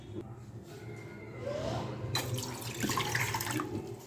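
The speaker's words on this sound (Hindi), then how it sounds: "इसमें हम मैं 1 कप के करीब पानी शामिल करूँगी" About a cup of water is poured into a saucepan in a home kitchen. The pour is short and splashing, and it grows louder partway through before it ends.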